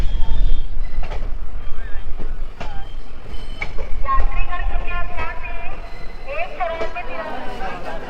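A train rumbles with low continuous noise and occasional metallic clanks at Deen Dayal Upadhyaya Junction, while people talk nearby throughout.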